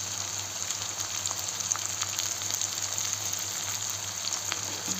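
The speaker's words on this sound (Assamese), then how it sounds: "অলপমান পিঁয়াজখিনি মই আগতে ভাজি লওঁ" Chopped onions sizzle in a pan with a little salt while chicken curry is being prepared, a steady, fairly quiet hiss with faint crackles and no talking.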